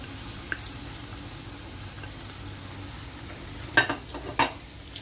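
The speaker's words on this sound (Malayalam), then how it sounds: "ഇനി നമ്മുടെ ഇഞ്ചിയും വെളുത്തുള്ളിയൊക്കെ നന്നായിട്ട് എണ്ണയിലൊന്ന് മൂത്ത് വരണം." Ginger and garlic frying in oil for a chicken pickle, a soft steady sizzle with a couple of sharper stirring clatters near the end, close and without talk.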